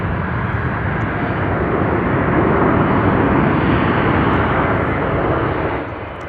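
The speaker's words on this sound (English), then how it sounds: "there's a United Airlines flight that just took off for Tokyo Haneda" At Chicago O'Hare, a United Airlines jet airliner takes off with a loud, steady roar that swells slightly and then begins to fade near the end, with no voices over it.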